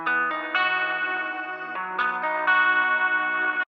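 Guitar intro processed with an RC20 lo-fi effect to mimic old speakers, heard as a steady, warbly stack of sustained chords with shifting pitch, played alone with no talk.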